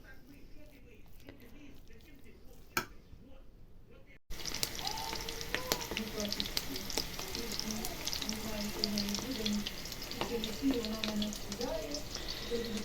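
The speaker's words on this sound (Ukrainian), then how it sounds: "трішки їх обсмажую на сковорідці, щоб не розпалися" Steady sizzling and crackling of meatballs frying in a hot pan, a continuous close hiss after a brief quieter start.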